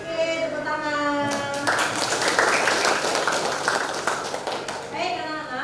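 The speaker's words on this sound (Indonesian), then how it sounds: "Oke, tepuk tangan." Schoolchildren in a classroom break into clapping together. A sustained burst of many small hands clapping follows a held voice, then fades as a voice returns near the end.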